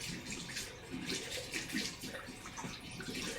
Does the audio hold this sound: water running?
yes